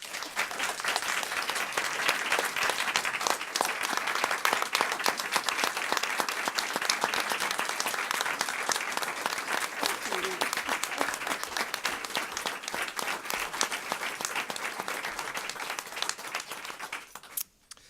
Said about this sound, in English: join me as we applaud these local leaders who care about Northside students, staff, and citizens